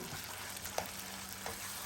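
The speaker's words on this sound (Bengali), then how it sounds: "এখন শাকগুলো দিয়ে এভাবে নাড়তে থাকবো" Taro leaves with green chili are stirred in a hot pan, giving a soft, steady sizzle with a couple of brief utensil clinks.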